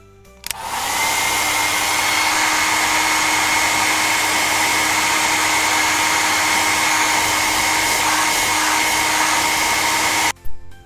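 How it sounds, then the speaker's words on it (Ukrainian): A hair dryer switches on with a click, blows a loud, steady whirring rush for about ten seconds, then cuts off abruptly. "Правильно, це фен."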